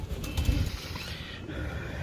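Pigeons flutter and coo nearby, a short burst of soft wingbeats and low murmuring at close range with some background hiss and no talking.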